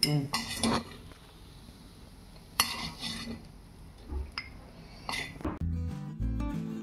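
Freshly sautéed coconut chutney scraped from a pan into a bowl with a spoon, a few sharp metallic scrapes and clinks separated by quiet gaps, ending in a lower rumbling clatter, close by.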